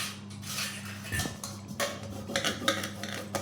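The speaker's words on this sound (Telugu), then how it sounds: "గిన్నెలు తోముతున్నావా? తోడు తోము మరి మంచిగా తోము." Pots and plates are scrubbed while washing dishes, with irregular close clinks, scrapes and metallic knocks of cookware and cutlery repeating in a busy uneven rhythm, no speech.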